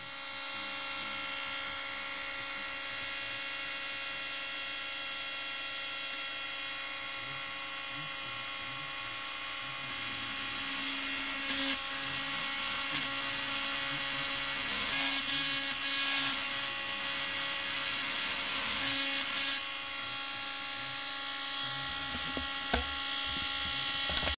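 An electric drill whines continuously at close range, its motor pitch wavering slightly as it bites into a part of a Sony TV-520, with no talking.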